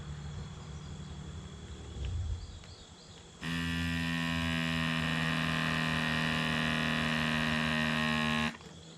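A portable electric goat milker pump switches on and runs with a steady loud buzzing hum for about five seconds, then cuts off abruptly; quieter handling noise comes before it.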